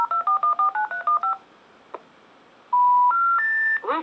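A touch-tone telephone dials a number in a quick, loud run of about ten paired beeps. A pause follows, then three rising intercept tones.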